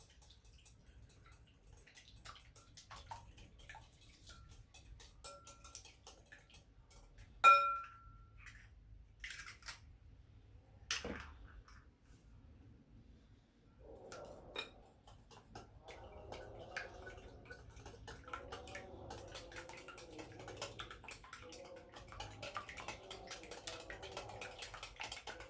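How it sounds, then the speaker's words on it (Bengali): Cracked eggs beaten in a bowl for a quick chocolate cake, a faint, steady scraping and clicking of a spoon or whisk that runs on for a long stretch, with a few louder knocks and no talk. "ডিমগুলোকে ফাটানোর পর এটাকে একটু ভালো করে নাড়িয়ে দিতে হবে।"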